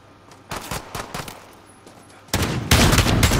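Shotgun fire in the Call of Duty: Modern Warfare video game: a handful of sharp, close blasts in quick bursts, ending in a loud, dense volley, with no talk over it.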